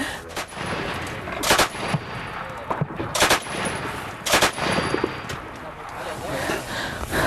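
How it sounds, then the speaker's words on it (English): Small-arms gunfire near a separatist front line in Ukraine, heard as several loud, sharp shots and short bursts cracking out at irregular intervals over an outdoor background, with voices talking between them. "that's well within the Kalashnikov firing range, and the firing hasn't stopped since we've been here"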